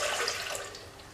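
Warm water at about 100 to 110 degrees is poured into a mixing bowl for bagel dough, giving a short, close, continuous splashing pour that tapers off, with no voices.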